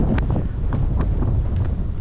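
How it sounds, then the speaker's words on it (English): Strong gusty wind blows over the Murderkill River during a kayak outing, a heavy continuous low roar pounding the microphone at close range with steady buffeting throughout. "the wind is really picking up. Some serious gusts."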